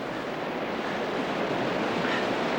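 Rough, rocky river rapids on a Tasmanian river rush in a steady, broad roar of churning water, loud and continuous with gusty wind noise, no voices.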